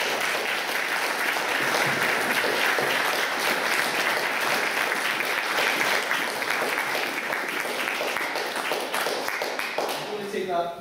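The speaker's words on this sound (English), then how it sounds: "I think we should give it a round of applause" Congregation applause during a Church of Scotland service at Belhelvie, dense sustained clapping filling the room for about ten seconds before tapering off at the end.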